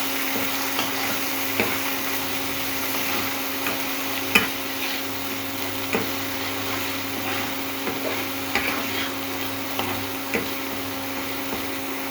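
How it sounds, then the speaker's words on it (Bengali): Onion, garlic and ginger paste fries in oil with a steady, even sizzle and a constant hum, broken by occasional light taps and scrapes of a utensil. "এখানে আমার পেঁয়াজ, রসুন এবং আদা বাটা আছে, সেটা আমি দিয়ে দিচ্ছি তেলের উপরে।"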